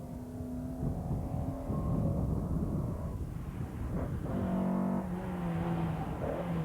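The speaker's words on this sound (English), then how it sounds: "208, Steve Howarth in his MGB, co-driven by Enid Watson" Historic MGB rally car driving past on a stage of the 1997 Manx International Historic Rally, its steady engine drone holding loud for several seconds with a pitch change midway, no voices.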